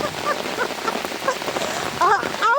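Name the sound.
heavy rain falling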